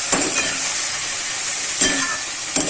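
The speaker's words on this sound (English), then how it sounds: "So we'll allow this to fry a little, okay, for about a minute or so" Chicken garlic mushroom fried rice frying in a pan, with a steady sizzling hiss and three brief scraping stirs spaced across the stretch, close and fairly loud.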